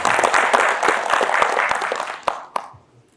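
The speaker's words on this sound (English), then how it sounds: "And we should give a round of applause" A keynote audience at a sales motivation talk claps in a sustained round of applause that thins out toward the end, with a few last sharp claps before it fades.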